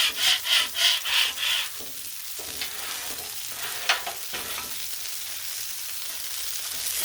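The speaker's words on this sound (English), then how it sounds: "So, let's scrape off some of the corn seasoning." A metal spatula scrapes corn seasoning across a hot Blackstone griddle, opening with a quick series of rhythmic scraping strokes before settling into a steady close sizzle with a few more scattered scrapes.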